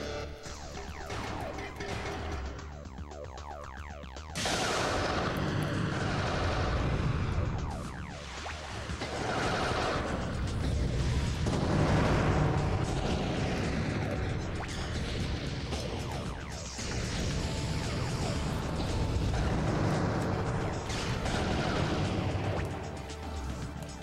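Explosions and crashing impacts from the robot-battle video game Custom Robo, a dense, continuous barrage of loud blasts and bursts layered over game music with no pauses.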